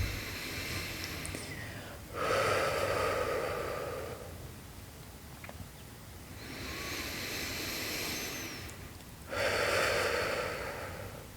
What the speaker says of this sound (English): Continuing to breathe in and out through the nose.